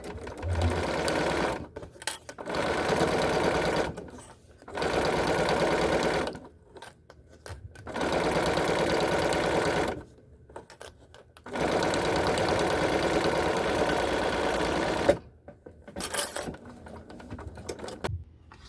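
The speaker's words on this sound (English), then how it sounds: "now we're here at the machine, and I'm on a regular stitch length, and we're stitching with a 3/8 inch seam allowance" Sewing machine on a regular stitch length sewing a 3/8 inch seam in a crossbody bag, several rapid whirring bursts of a few seconds each separated by short pauses, close and clear.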